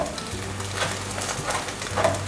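Food pan-frying until golden brown, a steady close sizzle with faint stirring and scraping noises throughout, no voices.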